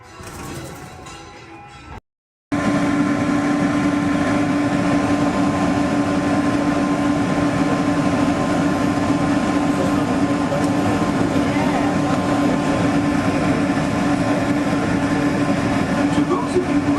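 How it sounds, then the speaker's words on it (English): Disneyland monorail ride heard from inside the car: a steady, loud rolling rumble with a constant whining tone, broken by a brief silent gap near the start, then continuous travel noise. "welcome aboard the Disneyland monorail"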